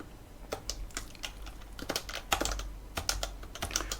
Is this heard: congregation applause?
no